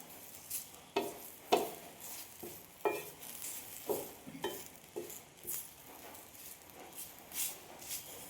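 Curry leaves dry-roast in a pan for a Palakkad-style dish, with a faint, soft sizzle under irregular scraping stirs and light clinks of a utensil against the pan.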